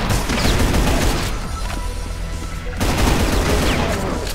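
Rapid gunfire in a first-person shooter video game, loud and dense dense bursts of shots filling the first second and a half and resuming near the end, with a quieter lull in between.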